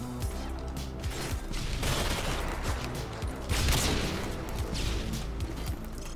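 Rapid gunfire in Modern Warfare 2 (IW4X), dense overlapping shots and mechanical weapon sounds forming a continuous loud barrage with no talk.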